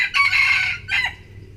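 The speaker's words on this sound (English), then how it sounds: "It's finally answered the call from the other rooster." A rooster crows once in rural Thailand, a loud, close, strained call with a rising opening and a shorter falling tail, alone without talk.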